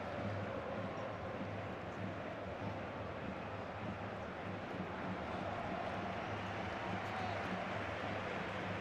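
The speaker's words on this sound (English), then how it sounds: "Little ripple of applause around the stadium" Scattered applause ripples around the Bernabeu stadium during a Real Madrid versus Manchester City match, blending into a steady crowd murmur at moderate distance, continuous and even throughout without sharp peaks.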